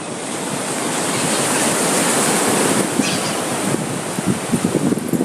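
Ocean surf rolls in near a home during busy Easter week, a loud broad wash of breaking waves with wind buffeting the microphone and choppier surges toward the end.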